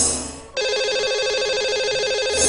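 A telephone ringing on a radio call-in show line, a warbling electronic ring that starts abruptly after a brief lead-in and continues steadily at close range with no talk.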